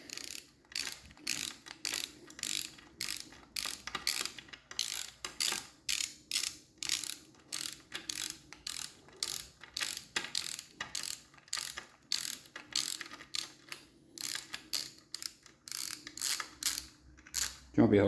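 A ratchet socket wrench clicks rapidly in repeated bursts while bolts are tightened on a Triumph TR6 engine during a rebuild, the short ratcheting runs close and crisp with brief pauses between strokes.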